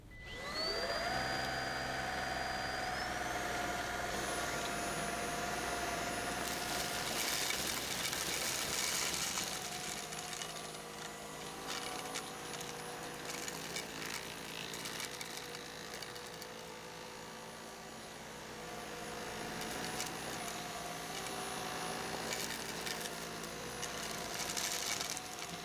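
A Kogan C11 stick vacuum cleaner runs on medium mode, a close, steady motor whine with a higher tone stepping up early on and airflow roughness varying as it passes over the floor.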